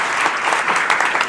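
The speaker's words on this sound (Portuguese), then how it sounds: "Uma salva de palmas, por favor, para o Barbieri." Steady applause from an audience, dense clapping filling the whole short stretch at an even, fairly loud level.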